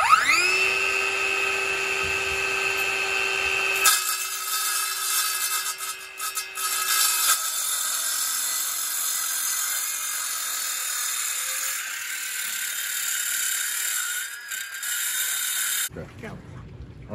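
A Ryobi brushless 7-inch saw fitted with a Diablo masonry blade cuts dry through stone, a loud sustained high-pitched whine and grinding that changes pitch as the blade bites, then stops abruptly near the end.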